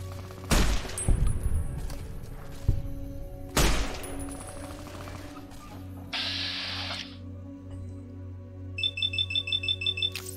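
Gunfire in Fallout New Vegas: two sharp, fairly loud shots spaced a few seconds apart ring out over a steady hum, later followed by a quick run of rapid, evenly spaced clicks, with no talking.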